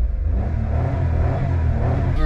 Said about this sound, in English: you still get a nice little exhaust note